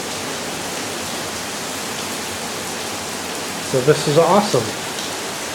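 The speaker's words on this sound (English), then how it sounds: "The first time since September 25th we've gotten rain." Steady rainfall, the first in weeks, hisses evenly and fairly loud outdoors throughout, with someone speaking briefly over it near the end.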